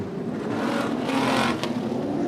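A V8 race car engine roars on an oval track, a sustained throaty drone that swells as the car passes fairly close before easing off.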